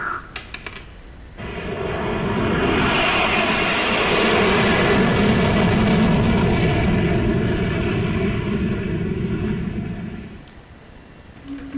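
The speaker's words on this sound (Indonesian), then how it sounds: "barusan kita dengarkan bersama pesawat yang insya Allah akan siap menjemput adik-adik untuk terbang dari Bandara Soekarno-Hatta ke Bandara Narita" An airplane's engine roar swells up, holds loud and broad for several seconds, then fades away, heard alone.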